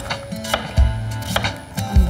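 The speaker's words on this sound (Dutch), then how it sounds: "Voor die zalf ga ik mijn pompoen in kleine stukken snijden." A knife chops pumpkin into small pieces on a cutting board, with sharp, irregular close thuds a few times per second and no talk.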